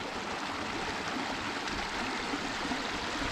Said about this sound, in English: This is just a random little corner of this waterfall landscape right here.